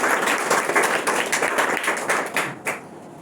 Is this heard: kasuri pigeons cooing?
no